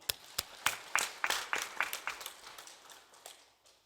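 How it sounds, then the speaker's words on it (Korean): A brief burst of applause from a church congregation, sharp claps rising then thinning out and fading within a few seconds. "이 하나님께 영광의 박수 한번 돌립시다"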